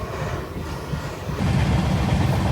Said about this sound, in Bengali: ট্রেন সাসারাম জাংশন থেকে ছাড়লো এই মাত্র